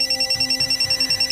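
Telephone ringing for an incoming call from Maribel's mother, a steady repeating electronic ring pattern with short regular pulses, fairly loud and close, with no talking.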